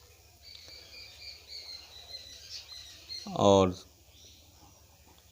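A voice imitates a crow's harsh caw, one short loud burst after quiet murmuring and faint background noise.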